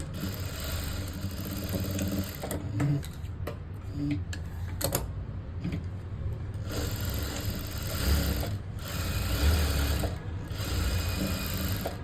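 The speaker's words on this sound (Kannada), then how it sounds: "ಇಲ್ಲಿ ಈ ಸ್ಟಿಚ್ ಹಾಕ್ತೆ ನಾನು ಈಗ ಮತ್ತೆ ಇನ್ನೆರಡು ಸ್ಟಿಚ್ಚನ್ನು ಹಾಕೊಳ್ಳೋಣ" A sewing machine stitches a blouse, its steady mechanical whirring and rapid needle clatter running close and continuous, with brief pauses and restarts along the seam.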